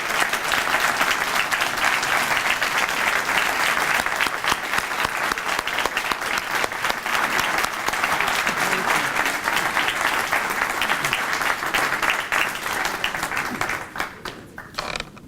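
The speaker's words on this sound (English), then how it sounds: "just give this fine gentleman a round of applause" Sustained round of applause from an award ceremony audience honoring a neighborhood recognition recipient, dense steady clapping from a large crowd that holds for about fourteen seconds before thinning out at the end.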